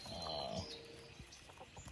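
A rooster crows close by on a farm, a single drawn-out call that trails off into softer clucking and faint farmyard noise.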